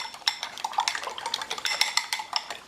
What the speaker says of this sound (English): Now we get to mix our eggs up